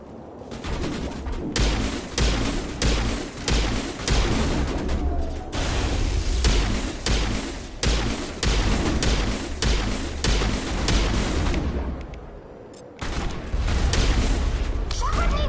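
Dense, continuous gunfire and booming explosions from a Mass Effect sniper battle, loud and relentless for most of the span with a short lull near the end, while a voice talks over it.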